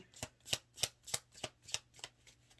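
Tarot cards being shuffled by hand, close up, in an even rhythm of about nine soft riffling bursts, each rising and falling, with no voices.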